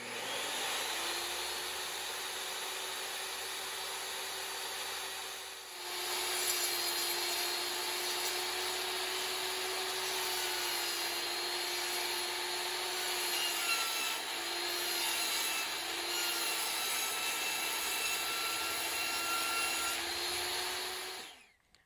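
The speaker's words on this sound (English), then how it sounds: "rip down this 3/4 inch plywood that I almost threw away" A power saw rips steadily through 3/4 inch plywood, its motor holding a sustained droning whine with a constant hissing cut that barely pauses once before carrying on, close and loud, and no one speaks.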